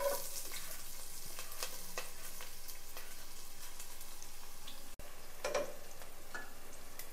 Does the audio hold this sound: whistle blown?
no